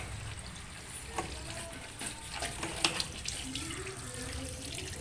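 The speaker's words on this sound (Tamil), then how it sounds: "ஓகேங்களா, தண்ணி வருது" Water running into a top-load washing machine under repair, a steady splashing rush with faint clatter and a few small knocks, close by, with no speech.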